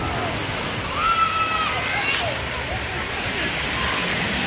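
Water splashes and rushes continuously at a resort water park by the ocean in Cancun, a steady wash of spray with faint voices in the background.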